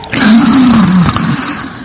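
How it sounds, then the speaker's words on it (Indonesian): A person snoring while asleep in a comedy sketch, one long loud rasping snore that rises and falls over nearly two seconds, close and alone with no talk over it. "Perempuan lu tidur ngorok kayak babi."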